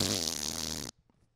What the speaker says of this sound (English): The fart noise needs to be just more.